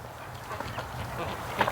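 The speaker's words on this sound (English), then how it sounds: "Oh, the ducks are going in the tub." Ducks gathered at a water tub outdoors on a cold winter day: a few short, nasal quacks rise near the end, close but modest in volume, over a muffled outdoor background.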